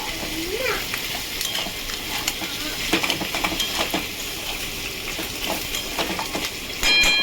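Snake gourd fries in a pan with coriander and cumin powder, a steady sizzle broken by repeated scraping strokes of a spoon stirring close up.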